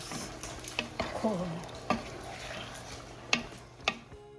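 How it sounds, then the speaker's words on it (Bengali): Korma with all its spices being stirred in a pot, a soft scraping stir with a few sharp clicks of the spoon against the pot over a faint low sizzle. "আর এখন আমি কোরমাটা বসাই দিচ্ছি। একদম সব মশলা মাখায় একসাথে বসাই।"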